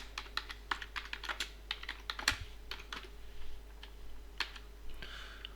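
Close, quiet computer keyboard typing while a spreadsheet formula is entered, irregular bursts of key taps with short pauses and no speech.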